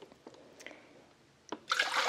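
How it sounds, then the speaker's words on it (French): Water added to a blender batch of homemade almond milk: a few soft, scattered drips and light taps, then a brief louder pouring splash at the end. "Je vais remettre encore un petit peu d'eau."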